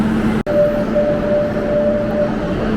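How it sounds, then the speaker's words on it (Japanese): A Barcelona metro L4 subway train carries a steady loud rumble of wheels on rail, with a thin electric whine and a brief drop-out near the start. "L4 の電車に乗ってバルセロネータという駅まで行きます。"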